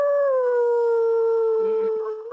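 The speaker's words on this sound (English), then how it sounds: "that dog, when it howls, it's got wolf in it" A dog with a wolf-like voice gives one long, loud, steady howl very close by, the pitch gliding slightly lower and holding before trailing off.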